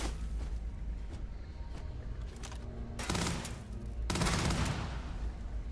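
Rapid gunfire from Starfield in survival mode, repeated automatic bursts with louder volleys near the end, steady game ambience underneath.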